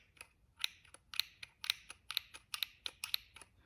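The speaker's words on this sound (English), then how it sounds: "that click. It's going over the activation." About ten sharp, bright clicks in an uneven rhythm, close and fairly quiet, come from the activation switch of a Rey Scavenger lightsaber hilt being worked, with nothing else around them.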